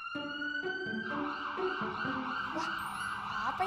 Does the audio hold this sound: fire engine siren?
yes